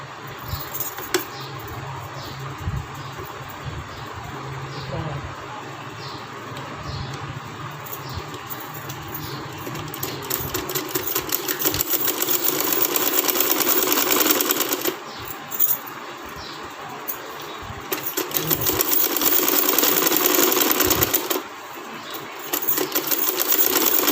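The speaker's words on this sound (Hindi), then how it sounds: "इसको यहीं पे इसकी दूसरी सिलाई लगाना स्टार्ट कर देंगे।" A sewing machine stitches an umbrella frock nearby, sending out a quick, even mechanical clatter in long runs with short pauses between them.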